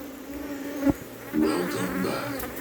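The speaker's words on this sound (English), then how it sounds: "Come on, bees. They're going and sticking up in between my fingers." Honey bees buzzing close around a beekeeper's hands at an open hive, a bright, wavering drone with individual insects swooping near and away and a few louder passes.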